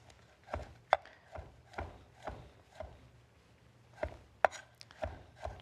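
Mushrooms being sliced with a knife on a board give a series of about a dozen soft, irregular chopping taps, fairly close, with a couple of sharper knocks and no speech.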